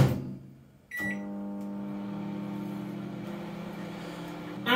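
A Russell Hobbs RHFM2363 non-spinning microwave oven runs with a steady, close electrical hum and drone after a brief quieter start, continuous to the end.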